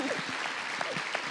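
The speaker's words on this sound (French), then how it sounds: "Je pense qu'il faut aussi applaudir et remercier beaucoup Maëtte" Applause from an audience at an evening science talk, a steady, dense patter of clapping at moderate level, with a voice faintly audible underneath.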